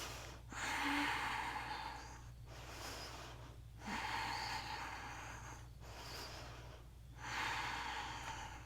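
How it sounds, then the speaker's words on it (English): Deep breathing during a yoga flow, three slow long inhale-exhale cycles, soft and airy, close to the microphone and alone in a quiet room with a faint low hum underneath. "breathing deeply."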